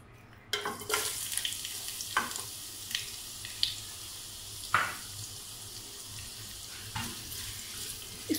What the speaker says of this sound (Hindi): अब मैं इसमें शामिल कर दूंगी प्याज कटी हुई